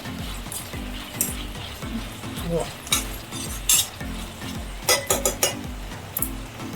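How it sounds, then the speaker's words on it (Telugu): Ivy gourd (dondakaya) slices fry in an oiled pan for an Indian vepudu, a steady sizzle broken by repeated scraping stirs and light clinks of a spatula against the metal. "మన ప్లేట్లోకి దండకాయ ఫ్రై ఉండాలంటే ఇంచు ఓపికగా నిదానంగా వేపుకోవాలి"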